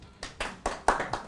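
A small audience claps in about five separate sharp bursts, each a quick cluster of hand claps with short pauses between, close and without talk.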